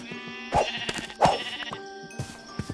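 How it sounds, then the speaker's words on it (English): Sheep bleat in the Minecraft video game: two distinct blocky, nasal bleats about a second apart, fairly close and clear over quiet in-game ambience with a few soft clicks. "Here are some sheep."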